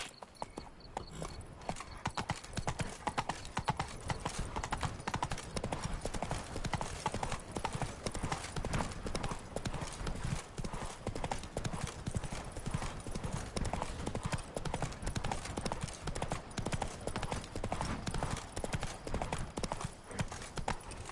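Roach, Geralt's horse in The Witcher 3: Wild Hunt, trots with steady, continuous clip-clopping hooves throughout, close and fairly loud, with a brief whinny-like edge possible near the start.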